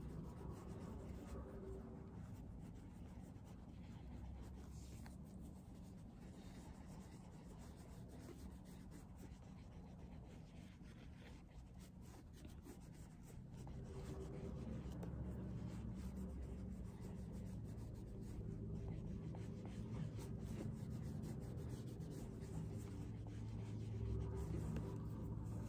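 A soft, continuous rubbing and scrubbing on a Chanel leather wallet in steady circular strokes while cleaning a stain, heard close up without talking.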